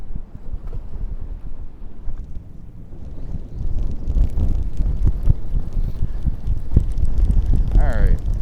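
Wind gusting across the open water on a boat fishing trip. A loud, steady roar of microphone buffeting rumbles through the whole clip and strengthens in the second half. Faint voice-like sounds come near the end.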